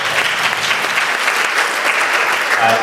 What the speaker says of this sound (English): Big round of applause for your counseling staff.